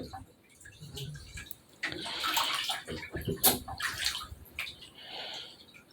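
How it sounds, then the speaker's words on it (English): Water drains from a sink pipe, splashing and pouring into a bucket, with gurgling and a few knocks and clatters nearby, continuing unevenly for several seconds. "drained all this water"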